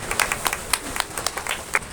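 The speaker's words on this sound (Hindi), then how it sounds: "तो इस खूबसूरत सी लोकेशन के लिए एक बार जोरदार तालियां हो जाए यार" An open mic audience on a hillside in Himachal Pradesh claps, with scattered, uneven handclaps coming from a modest crowd and no voices heard over them.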